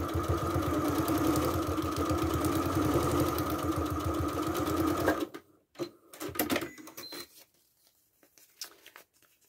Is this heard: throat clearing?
no